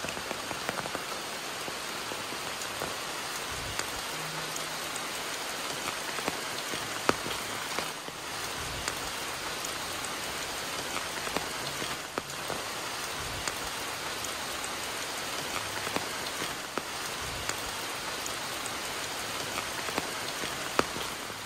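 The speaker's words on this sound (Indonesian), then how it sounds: "Dan beginilah sahabat kalau jalannya diguyur hujan ya." Steady rain pours onto a village road, a dense, even hiss of drops hitting the surface with no letup, close and continuous throughout.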